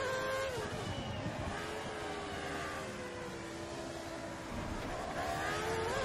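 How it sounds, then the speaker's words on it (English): Race car engine in a racing video game running at full fuel mix after shooting off the track, a steady loud droning whine with shifting pitch throughout, alone without talk. "The car just shot off the track then."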